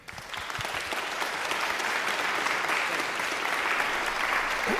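An audience applauds to welcome a speaker at a healthy leaders event, clapping swelling quickly from a quiet start into steady, full applause that holds for several seconds.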